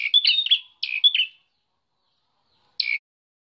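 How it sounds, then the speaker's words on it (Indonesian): A perenjak (prinia) songbird calls in short, bright, high chirping phrases, two quick bursts followed by a pause and one final clipped note, clear and close against silence. "burung perenjak dikenal memiliki suara yang lantang dan keras"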